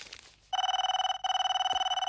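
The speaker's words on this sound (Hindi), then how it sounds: "ये फोन सुबह से शाम तक बजता ही रहता है।" A telephone bell rings loudly and close by in two bursts separated by a brief pause, with a muffled voice faintly heard just before.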